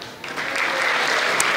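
Audience applause for a campus award winner at a university festival gala, a dense, loud wash of clapping that swells after a brief quieter start and holds steady.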